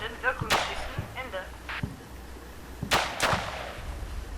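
Artillery spotter rounds land in the Combat Mission Shock Force game, two sharp blasts about two and a half seconds apart with smaller cracks and a voice speaking between them.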